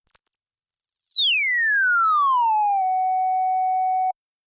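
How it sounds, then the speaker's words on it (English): Self-oscillating filter on the Moog Model D app producing a pure sine tone that sweeps steeply down from very high pitch and settles into a steady held note before cutting off abruptly. "Right now, the only thing we can hear is the self-oscillating filter. So we're actually creating a sine waveform"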